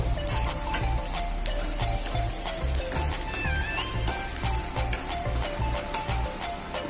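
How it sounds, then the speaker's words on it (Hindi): Chopped onions frying in hot oil for a soybean and egg curry, a steady close sizzle with repeated clinks and scrapes of a stirring utensil against the pan. "एक बार हम डाल दे हमारे जो कटे हुए प्याज है लाल भी होते बढ़िया से भून ले पहले"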